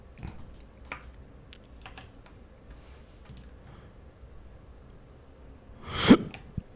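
One sharp, loud sneeze bursts out close by near the end, after several seconds of faint, scattered computer keyboard clicks in a quiet room.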